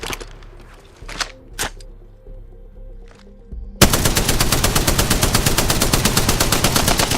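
Spitfire light machine gun in the Apex Legends video game, a few scattered shots and clicks, then loud sustained rapid automatic fire continuing steadily to the end.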